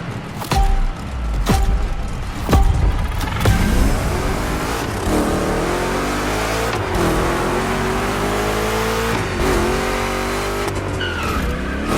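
A Chevy big block V8 in The Crew Motorfest gymkhana racing roars through hard revs and punchy throttle blips, then settles into a sustained loud drone with shifting pitch and occasional tire noise.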